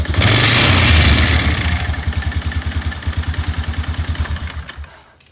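2007 Polaris Sportsman 500 ATV single-cylinder engine, with a belt and clutch problem under repair, revs hard and loud close by, then settles into a steady throbbing idle before cutting off abruptly.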